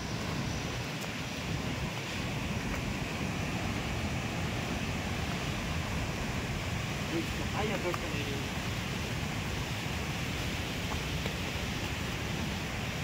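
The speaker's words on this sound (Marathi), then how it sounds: "हे बघा ह्यो धबधबो मागेल येतो" Mangeli waterfall roars as a continuous, dense rush of falling water, loud and unbroken throughout, while people talk faintly beneath it.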